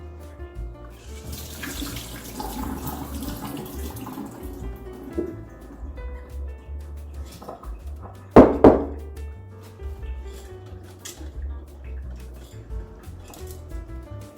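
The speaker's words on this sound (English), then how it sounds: "And drain the water out." Water trickles and splashes out of a sprouting jar in a steady flow, with a sharp clatter partway through, then quieter dripping and light knocking.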